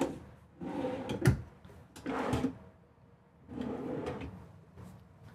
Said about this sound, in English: some pull-out drawers here